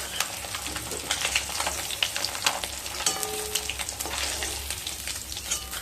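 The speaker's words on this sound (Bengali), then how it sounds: "এইভাবে সমস্ত মাছগুলোকে ভেজে নেব।" Pieces of katla fish fry in hot oil, giving a dense, crackling sizzle with bursts of spattering pops close by and no voices.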